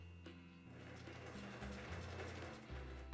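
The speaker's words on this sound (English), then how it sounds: "make 2 stitches using the hand crank" A hand-cranked sewing machine turns slowly to make a couple of stitches, giving close, quiet ratcheting and gear clicks with a low mechanical drone.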